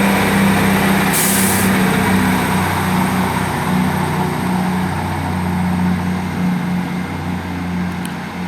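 Two coupled Class 158 diesel multiple units pull out of a station, their engines droning loudly and steadily with a low throbbing note, a short hiss of air near the start.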